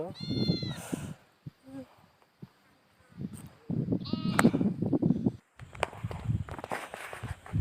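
Sheep grazing on a hillside near a dam bleat several times with a nasal, wavering call. Footsteps and people talking run under and between the bleats, and the scene is fairly close and outdoors.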